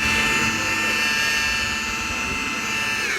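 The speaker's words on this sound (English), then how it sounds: "Just got done wet sanding. Now we're going to start the buff process." A rotary buffer polishes freshly wet-sanded paint on a 2025 530's driver's-side doors, giving a steady high-pitched whine with a strong tonal drone that holds close and loud for the whole stretch.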